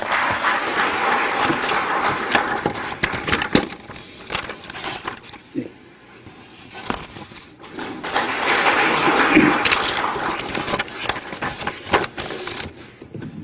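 A forum audience at the National Assembly, gathered on rice policy, applauds as Democratic Party lawmaker Park Chan-dae arrives. Loud crowd clapping fades to a quiet lull with scattered claps and shuffling, then swells again before thinning out.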